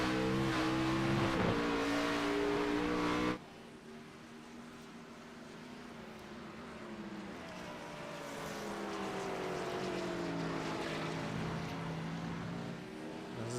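Race car engines in a sim racing game whine and climb in pitch as drivers get back on the throttle, several overlapping revs rising together, loud at first, then slightly more distant and building steadily.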